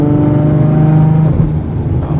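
A twin-turbo Infiniti G35 engine revs hard and holds a steady, loud roar for a couple of seconds, close by.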